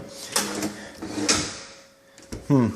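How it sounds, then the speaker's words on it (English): A sturdy kitchen drawer in a house slides and thumps shut, with a few wooden knocks and rolling scrapes, close and fairly quiet, followed by a brief voice. "let's close a drawer and see what happens"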